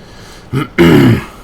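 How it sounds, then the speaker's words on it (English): A short rough throat clearing, a brief grunt followed by a louder, longer rasping burst, close to the mic. "It's very unprofessional to clear my throat on a mic."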